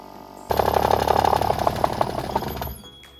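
An electric vibrating screed starts up running in forward, giving a loud, steady mechanical buzz with a rapid rattling pulse for about two seconds before it winds down and cuts off.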